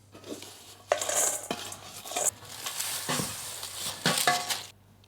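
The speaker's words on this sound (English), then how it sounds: "Let's put this into a bowl and let it cool down and add our chocolate." Toasted chocolate granola scraped and tipped from a pan into a bowl, with several sharp clinks of a utensil against cookware over a dry, rustling stir; close and alone, no voices.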